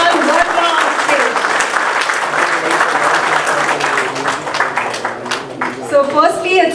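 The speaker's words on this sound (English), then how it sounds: "So please do clap as loudly as possible" Loud, sustained applause from an audience welcoming a dignitary onto the stage at a Kannada film press meet, dense clapping filling the whole stretch with crowd noise and a few cheers near the end.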